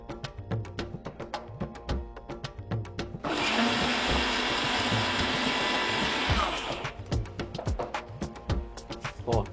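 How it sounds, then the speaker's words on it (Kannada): A kitchen mixer grinder runs in one steady, loud burst of about three and a half seconds, grinding curry leaf chutney powder fine. It starts and stops between softer clattering and handling noises. "ಇದನ್ನ ಇನ್ನೊಂದ್ಸತಿ ಮಿಕ್ಸಿ ಮಾಡಿ ಆ ಚಟ್ನಿ ಪುಡಿ"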